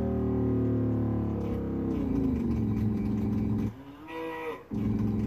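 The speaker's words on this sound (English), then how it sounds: "Gotta hit that cow and get that moo sound." A cow in a Commodore 64 video game lets out a long, low synthesized moo that slides downward, followed by a short higher electronic tone, all with no talking.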